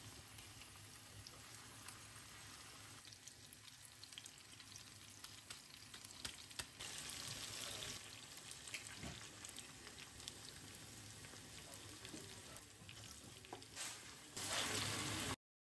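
Fish fries in hot oil with a dense, steady sizzle that stays close and constant throughout, swelling louder in places, with occasional clinks and stirring noises on top.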